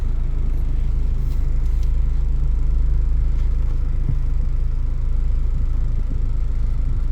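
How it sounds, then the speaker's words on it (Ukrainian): Steady low blower rumble from the heater fan of a Honda Concerto car, air blowing continuously and evenly throughout with no talk. "Пічка працює, повітря дує."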